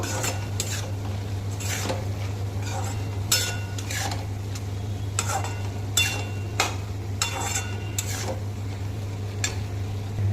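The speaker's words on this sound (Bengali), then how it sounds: "হলুদ গুঁড়ো দিয়ে দেবো, লবণ দেবো পরিমাণ মতন, ভালো করে মিশিয়ে নেব।" A spoon clinks and scrapes against a pot as turmeric and salt are stirred into chana dal in a home kitchen, sharp metallic taps recurring irregularly over a low steady hum.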